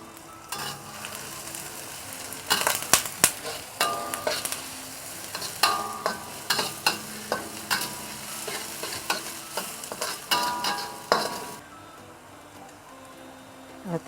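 Ginger slices fry with ground shallot and garlic in hot oil for Chinese zongzi, a continuous close sizzle broken by rhythmic scraping and stirring strokes of a spatula, with no talking.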